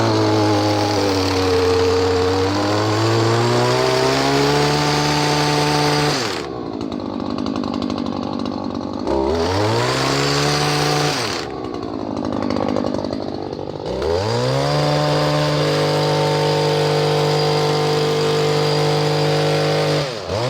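A Stihl KM94RC multitool with hedge trimmer attachment, its small two-stroke engine running loud and close, revving up and dropping back to idle several times with rising and falling pitch sweeps.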